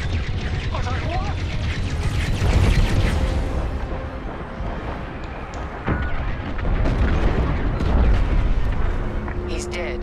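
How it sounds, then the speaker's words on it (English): A frigate explodes in the space combat game Star Wars Squadrons, a loud, sustained rumbling blast with booming surges that swell and fade over several seconds, mixed under voices and game sound effects. "The frigate is about to explode."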